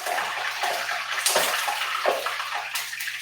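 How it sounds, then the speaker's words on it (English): Running tap water splashes steadily over hands being rinsed at a kitchen sink, close and continuous, with small gurgles and splash bursts and no talk. "Let me rinse my hands."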